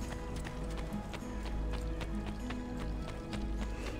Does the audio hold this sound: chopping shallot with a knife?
no